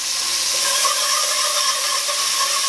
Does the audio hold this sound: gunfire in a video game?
no